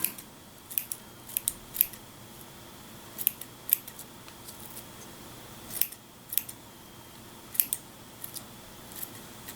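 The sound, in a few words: scissors trimming loose material on Ork miniature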